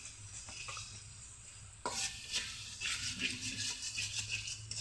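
Spices sizzle in hot oil in a pan on a clay stove while a utensil stirs and scrapes, quiet at first and then crackling louder and busier with rattling clinks.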